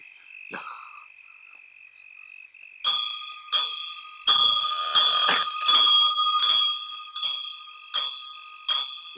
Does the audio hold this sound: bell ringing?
yes